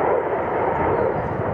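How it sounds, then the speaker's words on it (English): Steady broadband roar of jet aircraft passing overhead, heard over an empty oceanfront parking lot, loud and continuous throughout with no voices. "A parking lot, empty, only the sound of jets overhead"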